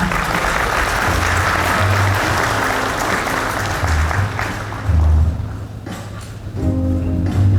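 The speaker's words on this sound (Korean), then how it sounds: "홍준표 대구광역시장님을 큰 박수로 맞이해 주시기 바랍니다" A large indoor audience applauds loudly and continuously as the Daegu mayor is welcomed to the stage at the launch ceremony of the 21st Daegu regional council of the Peaceful Unification Advisory Council, with the clapping sustained for several seconds.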